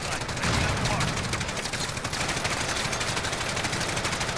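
Dense, continuous automatic gunfire in the shooter game Call of Duty: Modern Warfare, rapid overlapping bursts filling the whole stretch at steady loud volume, with a voice talking faintly underneath.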